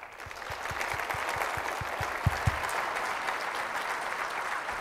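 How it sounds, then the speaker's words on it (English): Audience applause at a governmental forum on Illinois, a steady wash of many hands clapping in a hall, moderately distant and continuous, with a few sharper low thumps near the start. "Continued round of applause for Governor Thompson"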